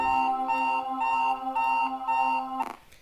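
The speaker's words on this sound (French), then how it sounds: "On peut pas cliquer sur ce foutu réveil là parce que c'est chiant." Electronic alarm clock ringing in the horror video game Five Nights at Maggie's, a loud repeating beep-beep pattern in steady pulses for over two seconds, then cut off abruptly.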